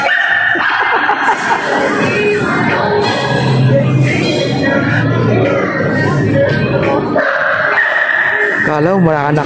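A big dog barks repeatedly at Robinson Novaliches in Quezon City, its calls rising out of a loud, busy crowd with steady chatter and background voices throughout.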